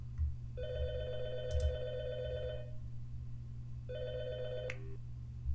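A telephone in the Nintendo 64-style game Shipwrecked 64 rings in two bursts of electronic trilling, a long ring followed by a shorter one after a pause, over a steady low hum.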